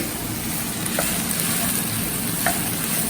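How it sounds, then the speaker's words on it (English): Vegetables such as capsicum cook in a pot, giving a steady, fairly loud frying hiss with faint stirring scrapes and occasional soft knocks; no one talks. "And you go on stirring."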